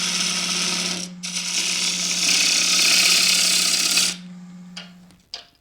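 A skew chisel cuts a tenon on a Sapele bowl spinning on a wood lathe, a loud steady scraping hiss over a constant motor hum that breaks off briefly, resumes, then fades as the cut ends.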